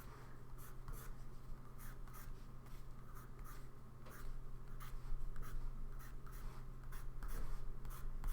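A soft 2B or 4B graphite pencil works on paper, sharpening the edges of drawn reflections. Close, steady scratchy strokes repeat in quick bursts, with no voices.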